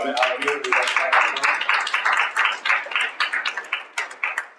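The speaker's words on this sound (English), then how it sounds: "So I just want to kind of give a round of applause for Brother Tariq." A small group claps at a Black August 2012 event at the Malcolm X Center in Omaha, Nebraska, a dense burst of applause that thins toward the end into scattered individual claps.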